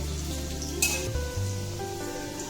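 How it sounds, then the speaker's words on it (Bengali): Hot oil sizzling steadily as whole green chillies fry, with a sharp burst of spattering and a few small pops near the start, then a continuous frying hiss. "লঙ্কাগুলো কেটে দিইনি, তাই লঙ্কাগুলো ফুটছে মানে ছিটিয়ে পড়ছে"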